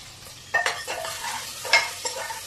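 Chopped onion stirred and fried in oil inside a hot pressure cooker, a steady sizzle under a few scraping spoon strokes against the metal.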